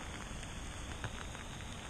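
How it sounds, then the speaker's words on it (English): Rain falls steadily on a pond during a bass fishing trip, making a dense, even hiss of drops on water and surfaces, close and continuous throughout. "It's a lot of rain. I'm wet as all can be"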